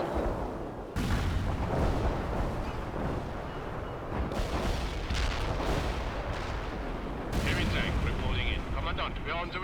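Artillery barrages and explosions in the war video game Wargame, heavy booming blasts and rumbling gunfire packed densely throughout, loud and close.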